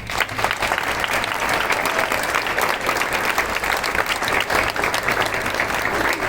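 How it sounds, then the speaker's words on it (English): Loud, sustained applause from a large audience at a nursing pinning ceremony, dense clapping filling the room steadily for several seconds. "Give them a round of applause."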